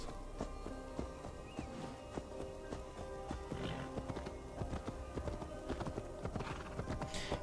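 Horse hoofbeats clip-clop steadily while riding in Assassin's Creed Valhalla, a continuous galloping rhythm over game music and ambience, with an occasional faint neigh.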